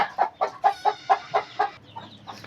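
A rooster gives a run of about eight evenly spaced, clucking calls, close and fairly loud. A short fainter call follows.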